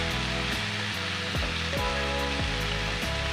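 Banana flower with small fish frying in a pan over a medium flame gives off a steady, close sizzle and crackle, while a soft rhythmic humming tone runs beneath it throughout.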